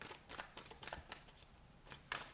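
Tarot cards riffled and shuffled by hand in a zodiac reading, giving quick papery bursts of flicking and slapping at an uneven rhythm, close and fairly quiet, with no talking.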